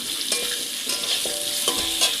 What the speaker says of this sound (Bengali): গ্যাসটা কমিয়েই ভাজবো